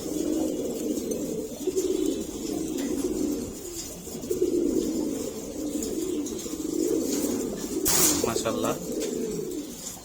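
Army breed pigeons in a loft cooing in repeated, rolling phrases close by, while someone talks over them in a quiet room.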